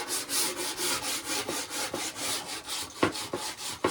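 Close hand sanding of a skateboard deck after the grip tape is removed, rhythmic back-and-forth rasping strokes, loud and even, with a few sharper scrapes toward the end.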